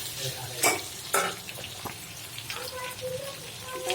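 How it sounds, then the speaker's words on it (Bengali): Food fries in bubbling hot oil in a home kitchen, a soft continuous sizzle punctuated by a few sharp stirring clatters, with a voice briefly talking. "তো দেখেন তেল তুল উঠছে অনেকটাই, তো এখন ভাজা ভাজা হতে থাক।"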